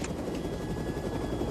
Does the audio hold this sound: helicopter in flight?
yes